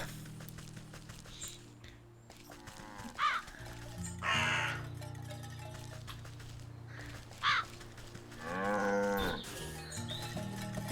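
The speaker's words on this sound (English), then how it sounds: "Oh, you look so sad, little cow." Cow lowing in the video game Wytchwood, several drawn-out moos spread across the stretch over soft game ambience and footsteps, fairly close and clear.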